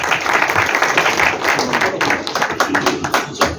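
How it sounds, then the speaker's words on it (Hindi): An audience at a ceremony honouring senior citizens bursts into loud, dense applause, continuous close clapping through the whole stretch. "जोरदार तालियां।"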